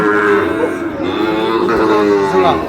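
Sahiwal cattle moo loudly and close at a busy livestock market, one long drawn-out low call that fills the whole moment with faint crowd noise beneath.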